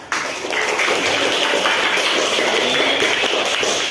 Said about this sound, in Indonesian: kasih tepuk tangan buat kelompok 4